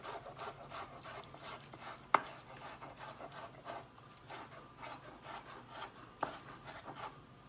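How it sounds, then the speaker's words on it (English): A knife chops red peppers into small pieces on a cutting board, with a fast, even run of soft taps and a couple of sharper knocks, close and fairly quiet, with no talking. "Red pepper are very low carb, so all I'm doing is I'm just cutting these up so they're not in like big old chunks"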